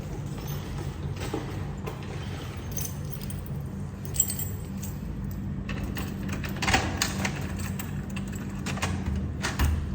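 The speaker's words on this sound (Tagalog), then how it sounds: "Kunin natin yung susi." Metal house keys jangling and clinking in short irregular bursts at a home's locked door, close and fairly clear over a low steady background hum.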